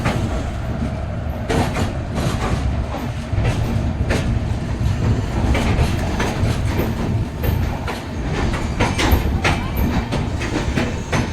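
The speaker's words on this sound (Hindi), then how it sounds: "हमारी ट्रेन पहुँच चुकी है भाई संबलपुर।" Tapaswini Express pulling into Sambalpur station, a steady close rumble of coaches on rails with clattering wheel beats and sharp clanks scattered throughout, holding a constant level for the whole stretch.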